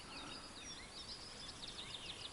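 Faint, distant birdsong in spring taiga by a river on a windless day: thin high chirps and trills repeating over a quiet outdoor hush.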